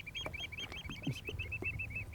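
Coastal birds call back and forth in a territorial display, a steady run of repeated shrill, squeaky notes over low outdoor background rumble, fairly distant and continuous.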